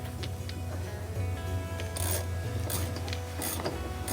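A socket wrench tightens the ring on an above-ground pool wall, with close, repeated ratcheting clicks and rasping turns in short bursts over a low steady hum, and no talking.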